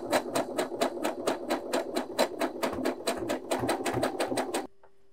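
A sewing machine stitches a side seam in fabric with a fast, even mechanical chatter at close range, then stops abruptly, leaving a faint hum.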